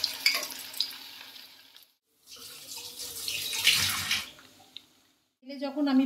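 Cauliflower pieces for pakora dropped one by one into hot oil for deep frying, giving bursts of loud, close bubbling and hissing separated by brief silences, with no talk.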